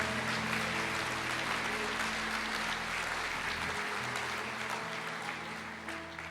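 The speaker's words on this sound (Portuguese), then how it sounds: "Aplauda ao Senhor." A church congregation applauds together, a dense, steady wash of clapping from many hands that holds for several seconds and fades slightly toward the end.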